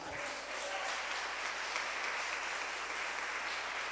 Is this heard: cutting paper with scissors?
no